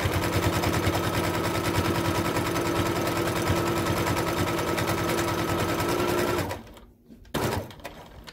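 A sewing machine runs steadily while stitching a fabric face mask at a quarter-inch seam, a loud, close, rapid mechanical whir lasting about six seconds before stopping abruptly, followed by a brief clunk and near quiet.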